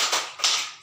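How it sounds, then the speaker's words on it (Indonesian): Children in a classroom clap together in the rhythmic Indonesian 'tepuk semangat' spirit clap, a short burst of two bright, close clap accents with no talking. "Sekarang kita sama-sama tepuk semangat."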